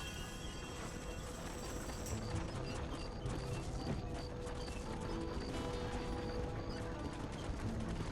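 Horses gallop in the Red Dead Redemption video game, steady clip-clop hoofbeats running continuously under a dense, busy game soundscape with clattering and background noise.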